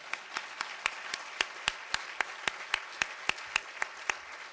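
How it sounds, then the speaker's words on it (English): Clapping at a symposium on psychedelic research in Belgium, given for the volunteers, sounds as a steady run of sharp, evenly spaced claps at a moderate distance over a faint room murmur. "give a really, really big round of applause for the volunteers that organized this."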